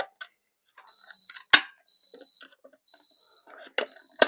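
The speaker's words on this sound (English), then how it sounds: "So that was a nice beep." A heat press emits a high-pitched electronic beep in several long, steady tones, separated by pauses, with sharp clicks and faint background noise between them.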